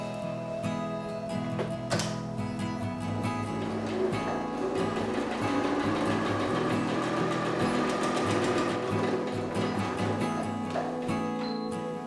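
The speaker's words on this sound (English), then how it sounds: "Next, I'll pin and sew the channels that will hold the boning to support the corners of the bag." A sewing machine stitching the boning channels of a reusable fabric shopping bag, running steadily and close for the whole stretch with a fast, even mechanical whir and ticking, no talking.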